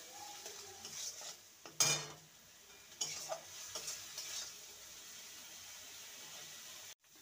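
Ground spices with Kashmiri chilli powder, cumin and salt being sautéed in a pan for a dhaba-style potato curry: a quiet, steady sizzle broken by a few sharp scraping stirs of a spoon against the pan, no voices.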